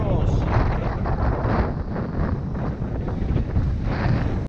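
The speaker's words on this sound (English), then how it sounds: "Rather a lot of wind in the 20s." Strong wind in the 20s buffets a sailboat on the way home from St Peter Port after a race. A loud, continuous roar of wind noise fills the whole stretch.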